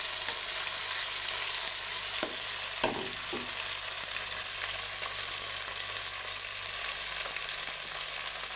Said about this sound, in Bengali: আদা রসুন জিরা বাটাটা দিয়ে একটু ভাজা ভাজা করে নিই